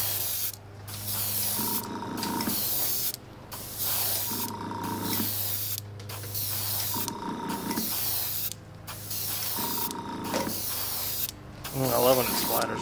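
Airbrush or spray paint being applied to a vintage fishing lure, with repeated hissing bursts of a few seconds each separated by short pauses, close and steady.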